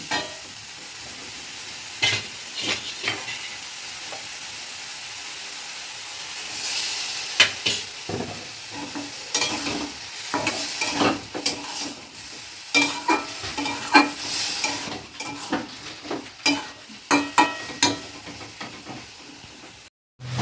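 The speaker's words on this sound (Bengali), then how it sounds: "এবার আমি এটাকে একটু সামান্য জল দিয়ে আর একটু কষবো।" A spatula stirs and scrapes through a soybean curry sautéing with a little water, giving a low sizzle and hiss under repeated knocks and scrapes against the pan. The knocks come faster and louder toward the end.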